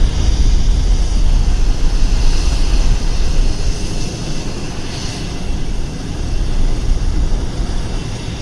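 Aircraft landing at Vancouver Airport, a loud, steady low-heavy engine rumble with broadband roar, easing slightly in the middle before swelling again.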